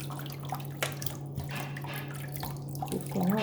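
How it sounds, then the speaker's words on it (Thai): Bean sprouts rinsed under cold running tap water, a steady close trickle and splash with scattered drips, growing a little louder toward the end. "ล้าง ล้างน้ำน้ำเย็นด้วยน้ำปกตินิดหน่อยก็ได้ค่ะ"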